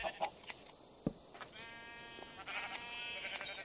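Sheep bleating in Minecraft with the Minecolonies mod, a few quiet wavering bleats amid soft clicks and small game sounds during shearing.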